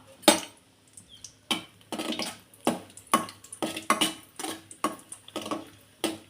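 Cashews roasting in a pan over a medium flame, stirred with a utensil, making a series of separate close scrapes and light clicks at an uneven pace, alone with no talking.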